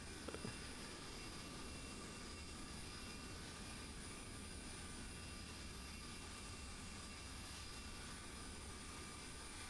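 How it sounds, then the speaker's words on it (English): PMDG 737-800 jet engines in the MSFS2020 video game, a steady broadband roar with a faint high whine that stays level throughout, with no clear spool-down, quiet and uninterrupted. "Now shut down the engines, the sound is really annoying."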